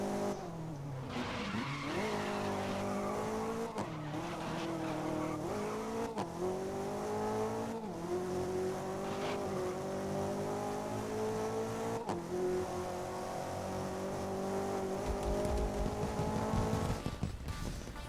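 A high-powered car in a racing video game drives hard with a steady engine drone, shifting pitch as it accelerates, with repeated tire skids and squeals throughout.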